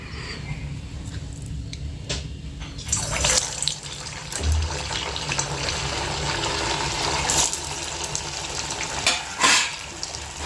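Sabudana vadas slipped into hot oil in a home kitchen sizzle and bubble, a continuous close frying hiss that swells in bursts as more pieces go in.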